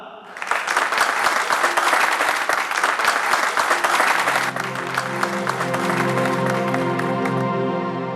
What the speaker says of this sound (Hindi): तो एक बार जोरदार तालियां हो जाएं हमारे इस प्ले के लिए